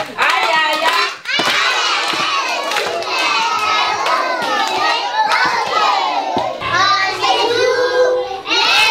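Young children at a community early-childhood centre clap their hands amid loud excited shouting and chatter, a dense, close crowd of small voices and claps throughout.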